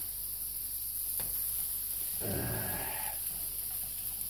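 Sausage patties frying in a pan, with a steady low sizzle, a brief tap near the start, then a louder burst of crackling sizzle as the patties are flipped over, settling back to a quiet hiss.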